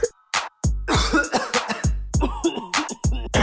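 A run of loud, close coughs repeating in quick bursts, with a few short gaps between them.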